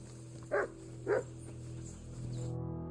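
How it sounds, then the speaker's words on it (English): A dog barks twice in the video game Kingdom Come: Deliverance II, two short, spaced yaps at moderate volume over a steady low game ambience with a faint hum. "Good doggy, good boy."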